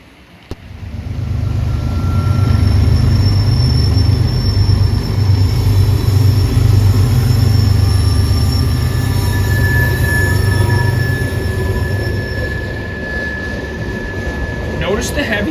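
A heavy Union Pacific freight train with heavy well cars rumbles past close by, its wheels squealing over a steady clatter that gradually eases off.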